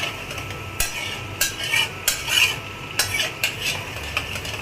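A spice paste of ground mustard with yogurt and chili is stirred and sautéed in a hot pan: repeated close scraping strokes of a utensil against metal over a low, continuous sizzle.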